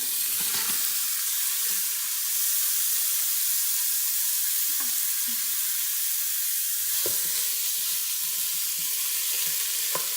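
Beef sizzles and fries steadily in oil in a pot for creamy beef gnocchi soup, with a loud, constant hiss and occasional stirring scrapes.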